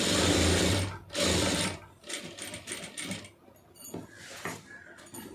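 A sewing machine stitches a fall onto a saree in loud, close bursts of rapid mechanical whirring, broken by short pauses and clicks as the fabric is adjusted.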